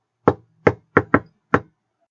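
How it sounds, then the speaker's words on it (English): Five sharp knocks on a cottage door, close and loud, in an uneven rhythm with two quick raps in the middle and no voices. "He knocked on the door"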